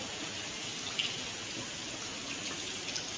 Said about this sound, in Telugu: ఫౌంటైన్ ఉంది చూడండి, వాటర్ వస్తుంది.